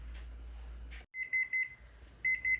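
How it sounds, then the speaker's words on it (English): A kitchen timer goes off during stovetop cooking of sautéed garlic green beans, sounding a few bursts of rapid electronic beeps with short gaps between them, clear and close in a quiet room. "there goes the timer"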